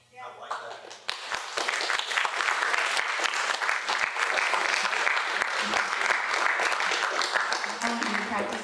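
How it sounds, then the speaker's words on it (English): Audience applause in a music performance workshop, a sustained wash of many hands clapping at steady loudness for several seconds, with faint voices underneath. "I want you to practice one more time receiving applause."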